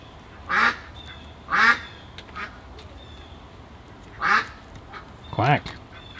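A duck quacks four times, loud, close and spaced out, its nasal calls standing out against a quiet background.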